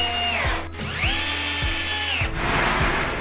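A power screwdriver drives euro screws into a wardrobe base, with loud whirring bursts that rise and fall in pitch as the motor spins up and slows, and short pauses between runs.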